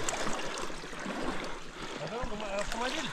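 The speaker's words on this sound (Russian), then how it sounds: "Ручей вообще вон там шумит." A babbling forest stream rushes steadily beside a trail, a constant broadband wash of water with voices speaking over it in places.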